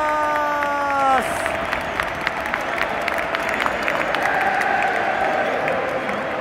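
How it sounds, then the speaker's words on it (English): Stadium crowd at a Liverpool versus Manchester City football match applauds steadily, a dense wash of clapping with scattered cheers after a short tonal sound fades at the start. "round of applause."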